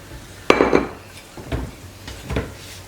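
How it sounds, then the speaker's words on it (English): A utensil knocks and scrapes against a bowl while whipped cream is folded into strawberry crepe filling, with one sharp clack followed by two softer, dull taps spaced about a second apart, close and quiet. "What we're going to do now is take that whipped cream and we're just going to fold it in."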